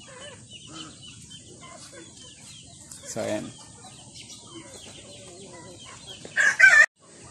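Native chickens on a farm, with low clucking throughout and a couple of short louder calls, including a crow-like burst near the end, while someone talks over them.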